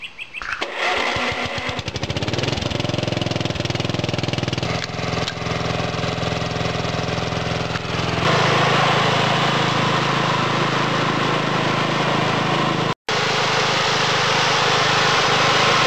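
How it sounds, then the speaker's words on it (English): Old lawn mower engine starting up and then running continuously while cutting a lawn, a loud, close, steady mechanical drone that shifts in tone partway through and cuts out briefly near the end. "she did pretty dang good for an old lawnmower"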